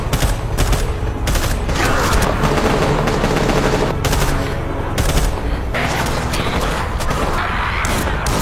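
Rapid, dense gunfire crackles loudly and almost without pause as people shoot at approaching zombies in a film scene, with bursts overlapping into a continuous barrage.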